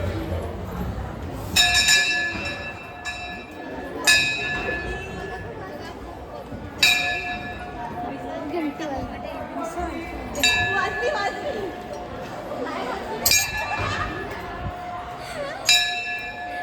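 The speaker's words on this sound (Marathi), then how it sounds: "घंटी वाजली बघा किती गर्दी आहे" Metal bells are struck again and again in a packed Jivdani Aai temple, each clear ringing strike decaying over a constant murmur of crowd chatter.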